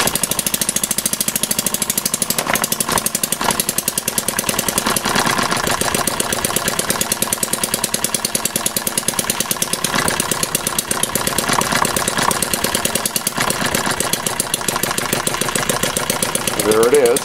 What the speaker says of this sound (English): We'll turn the ignition on and we'll pull it over and see if she starts.